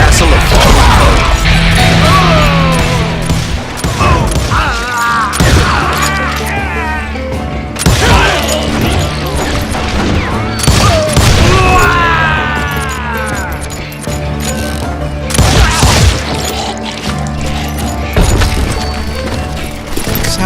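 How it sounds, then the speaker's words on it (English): Gunfire and crashing impacts from hired guns in the Western shooter Call of Juarez: Gunslinger, dense and loud throughout, with repeated booms, thuds and clattering mechanisms over a steady game backdrop. "Sounds like Garrett hired a whole regiment of hired guns"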